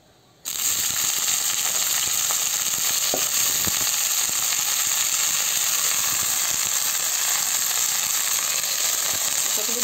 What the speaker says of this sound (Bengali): এবার একটু কষাই নেবো পাতাকপিটা।